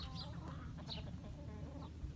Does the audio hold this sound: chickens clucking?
yes